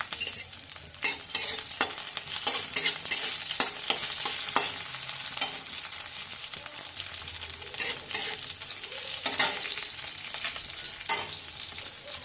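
Garlic and green chilies sizzle steadily in hot oil, a dense continuous crackle with repeated spatula scrapes and stirring strokes throughout, close and fairly loud with no talk.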